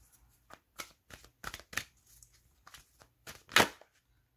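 Tarot cards shuffled for a reading: a quiet run of soft riffling bursts and slaps, irregular and close, peaking in one sharper flick near the end, with no talking over it.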